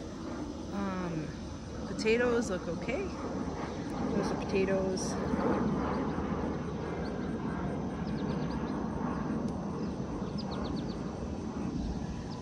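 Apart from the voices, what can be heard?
airplanes flying overhead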